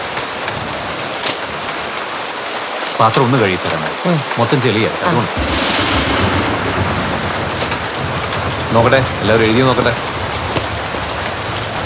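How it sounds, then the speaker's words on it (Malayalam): Rain begins falling as a steady, even hiss of drops on surfaces, continuing throughout at moderate loudness while several people hold a conversation over it. "ഓ മഴ തുടങ്ങിയല്ലോ"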